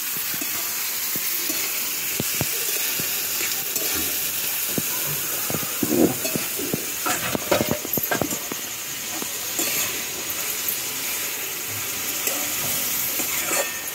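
Cashew vegetable dish frying in a pan, a steady loud sizzle and hiss of oil close up, with scraping and clinking as it is stirred throughout.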